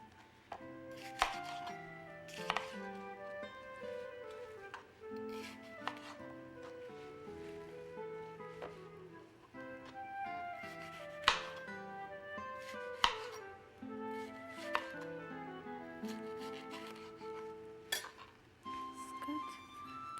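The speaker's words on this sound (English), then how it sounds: "I have nice green pepper here that will cut" A knife cutting a green pepper on a cutting board, a series of irregular crisp chops and taps at close range with quiet gaps between strokes.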